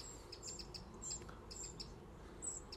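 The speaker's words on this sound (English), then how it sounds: "There are a lot of wrens around here, not just here, but all around these woodlands and the bridleway and the meadows." Wrens sing in woodland near a bridleway and meadows, with small high chirps and short trills repeating at a distance over a soft background hush.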